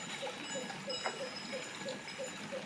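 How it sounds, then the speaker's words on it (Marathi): Cattle walking one behind another along a village path, with a soft, evenly spaced clink of a bell repeating about twice a second, fairly quiet against a light outdoor background. "आले आता गुरं कसे लाईनीने चालत आहेत, एका मागे एक मस्त पैकी"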